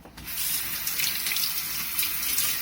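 A tomato being rinsed under a steady stream of running tap water, with a continuous splashing gush into the sink and no voices.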